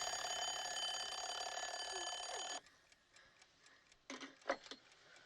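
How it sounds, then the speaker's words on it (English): An alarm clock rings loudly and steadily in a bedroom scene from the 1984 horror film A Nightmare on Elm Street, then cuts off abruptly midway, followed by quieter background sounds and a few sharp clatters. "Thank goodness you set an alarm."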